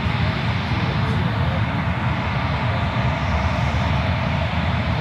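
An American Airlines Boeing 737-800 jet at San Francisco airport gives a broad, steady roar of engine noise that holds loud and unchanging, with no talk over it.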